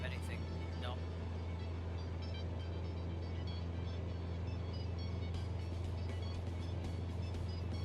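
A Cessna 172 piston engine drones steadily in flight during a cross-country run, its constant low hum and propeller tone filling the cabin while faint radio or speech sounds come and go.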